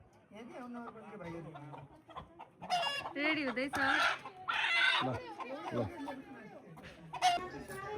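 A rooster clucks and calls loudly nearby in several bursts at Rara in cold weather, while people talk around it.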